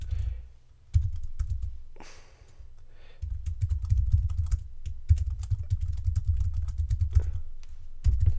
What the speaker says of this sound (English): So just typing away.